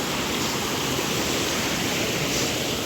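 Water rushing steadily at a water-powered flour mill grinding wheat, a loud, continuous broadband roar with no pauses and no talk.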